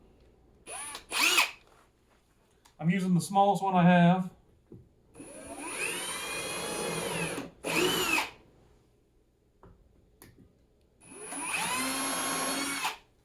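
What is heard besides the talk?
power drill drilling metal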